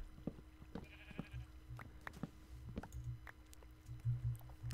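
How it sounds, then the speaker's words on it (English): Quiet sheep bleats from the Minecraft video game recur among soft clicks and footstep-like taps, faint and intermittent over a low background hum. "go away, sheep"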